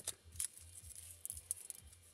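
Small scissors snip through a piece of ribbon during a papercraft session, a few quiet, crisp close-up cuts with soft handling sounds between them.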